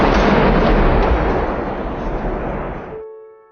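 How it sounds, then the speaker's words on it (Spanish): A homemade grenade bursts in one loud, close, booming blast whose broad rumble slowly decays over a few seconds before cutting off into silence. "inmediatamente una explosión mayor la precedió"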